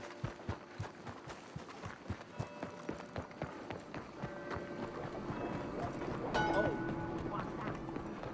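Rhythmic hoofbeats of a galloping horse in Red Dead Redemption 2, steady and fairly close, with game music and effects building underneath toward the end.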